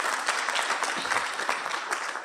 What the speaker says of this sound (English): you can clap for her, she comes.